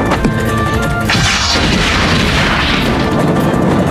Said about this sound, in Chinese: 断剑见状扔出了一颗天雷轰，却被明月给轻松接住，投掷回去差点炸伤断剑。